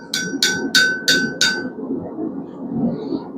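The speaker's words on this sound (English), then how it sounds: "I'm still using the horn of the anvil because I just want to get it rounded a little bit" Hot steel hammered on the horn of an anvil during blacksmith forging: five bright, ringing metallic strikes in an even rhythm, close and loud, followed by low shop noise.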